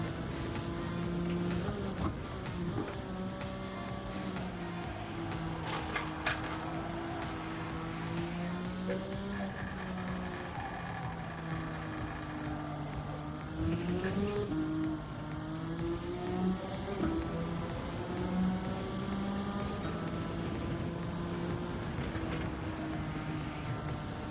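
A race car in the Gran Turismo video game drives at sustained high revs, its engine droning and shifting pitch through gear changes and corners over nearly half a minute, steady and moderately loud.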